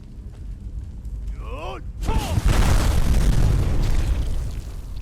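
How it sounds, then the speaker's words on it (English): A blast in the video game Skyrim erupts after a few warbling magical tones, a sudden loud boom so strong it clips and crunches, then rumbles on heavily with distorted low roar. "don't you just love when an explosion is so loud it crunches the audio?"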